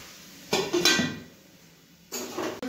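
Metal lid set onto a pan of cooking paneer masala, with a cluster of clanks and clinks followed by another clatter a moment later.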